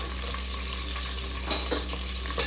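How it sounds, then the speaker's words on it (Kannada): Green chillies crackling and sizzling in hot oil in a pan while cooking chicken biryani: a steady, dense hiss with a few sharper spatters and a light stir near the end, close and alone. "ಮೆಣಸಿನ್ಕಾಯಿ ಹಾಕಿದ್ರೆ ಚಟಪಟ ಅನ್ನುತ್ತೆ"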